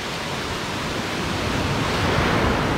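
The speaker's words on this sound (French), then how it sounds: "Donc des cascades comme ça." Water pours down a small waterfall on a beach property in Panama, producing a steady, full-bodied rush that swells slightly toward the end, with no voices.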